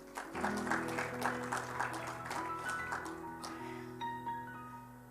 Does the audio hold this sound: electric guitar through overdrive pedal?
no